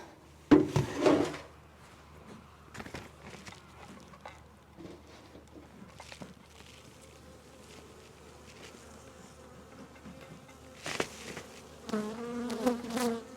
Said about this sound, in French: pour voir ce qui se passe à l'intérieur de la ruche